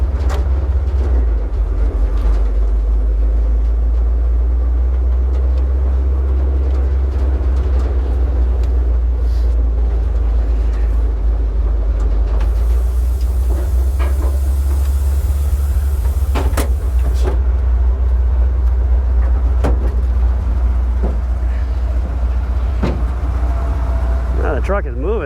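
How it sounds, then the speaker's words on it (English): A big Dodge truck fitted with air brakes idles with a loud, steady low rumble that runs the whole time, joined by occasional clicks and rattles, while someone talks over it. "I want to show everybody the engine running."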